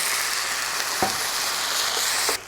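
Steady sizzling and crackling of chilies frying in a hot pan with a splash of water, with a couple of faint clinks partway through.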